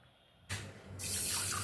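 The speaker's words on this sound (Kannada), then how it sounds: "ಇದಕ್ಕೆ ಈ ನೀರು ಹಾಕಿ" Water gushes from a tap onto soaking fenugreek seeds, a sudden pour that grows into a steady, close, loud rush.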